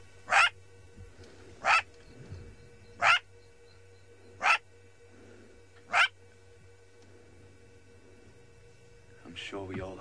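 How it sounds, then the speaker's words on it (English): Several jackals barking from the grass on a safari drive: five sharp, evenly spaced barks ring out at a middle distance over a quiet bush background, followed by a brief chattering call near the end. "It'd be the barking from the jackals there."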